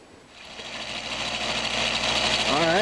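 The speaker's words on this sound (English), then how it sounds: "take it over to the grinder and grind it a little bit" A bench grinder grinds a small gun screw, its buzzing whine building and holding steady at close range, with a voice starting just at the end.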